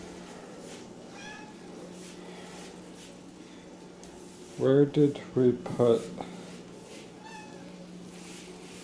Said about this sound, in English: there's a cat, here's a cat.